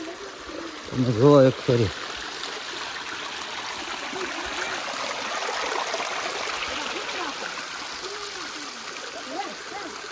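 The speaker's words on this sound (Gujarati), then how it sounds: "જો આ પાણી જાય છે ઝરણું" A mountain stream near the Gautameshwar Mahadev temple hills flows with a steady rushing hiss, continuous and fairly close. A voice speaks briefly at the start, and faint birdsong sits in the background.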